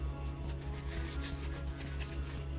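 Steady close scrubbing and rubbing while the guide rails of an IWI Jericho 941 pistol slide are cleaned, a soft continuous scraping with faint rhythmic strokes and no talking.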